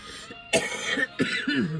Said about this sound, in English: have a really bad cough, sorry